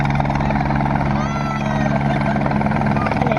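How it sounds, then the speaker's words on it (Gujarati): A helicopter lands at a cricket ground as a groom arrives for a wedding, its rotor a loud, close, continuous thudding roar that holds steady throughout. "જો હેલિકોપ્ટર લેન્ડિંગ કરે છે."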